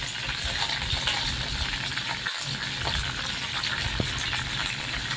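Curry leaves and mustard seeds fry in hot oil with a loud, steady crackling sizzle that runs unbroken throughout, close up, with no voices.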